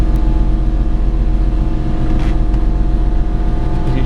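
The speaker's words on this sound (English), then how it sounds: "Compressor's airing up the tanks right now." An air compressor fills the trunk-mounted air suspension tanks of a 1938 Ford Roadster with an LS3 engine, giving a loud, steady mechanical buzz with a constant harmonic drone, close by and uninterrupted.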